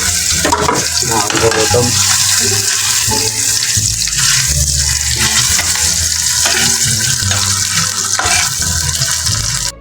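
Loud, steady sizzle of ham frying in a hot pan, a continuous hiss that fills the whole stretch, with a brief spoken word near the start.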